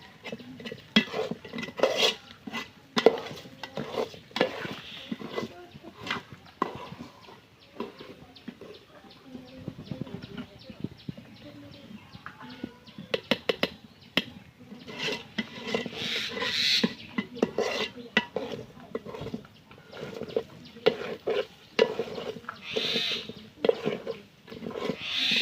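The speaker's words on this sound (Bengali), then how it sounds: "এখন সুন্দর করে একটু নেড়ে দেবো, ভালোভাবে মিশিয়ে একটু ভালো করে কষিয়ে নেব।" Biryani is stirred and mixed in a cooking pot at home, with irregular scraping and clattering of a utensil against the pot, fairly quiet and close, continuing in uneven bursts throughout.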